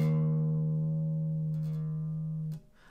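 A single bass guitar note rings out steady and clear, then bends slightly sharp as the fretting finger presses harder, before being cut off with a muted thump near the end.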